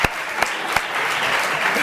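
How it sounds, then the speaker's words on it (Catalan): A short burst of clapping and applause from a small crowd, steady and brief. "Un aplaudiment."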